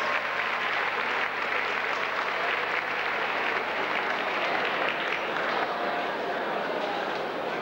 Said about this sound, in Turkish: Kendilerini alkışlarla kürsüye davet ediyoruz